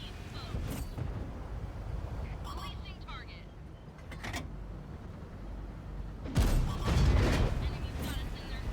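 A tank cannon fires in a video game, one deep, heavy boom late in the clip standing out from a low engine rumble, while someone talks over the gameplay.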